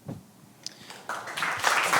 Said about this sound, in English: rounds of applause for that.